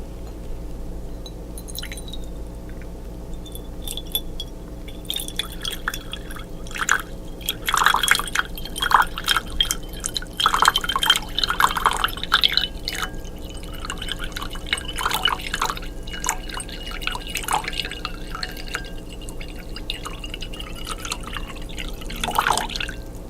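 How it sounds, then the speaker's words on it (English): Water trickles and drips into a bowl being prepared with sea salt for cleaning seashells. Irregular splashes and droplets build and fade close by over a soft steady background, with no talking. "place your shells in a bowl of water mixed with sea salt"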